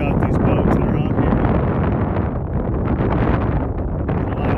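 Gusty wind blows by a lake where anglers sit in boats fishing for walleye, buffeting the microphone in a loud, continuous roar that swells and dips slightly over a few seconds.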